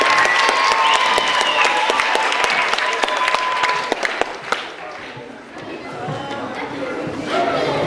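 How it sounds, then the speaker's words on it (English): A crowd at a school matriculation event claps in a loud burst that gradually thins out, with a voice and a few stray claps carrying on under chatter afterward. "give them another round of applause"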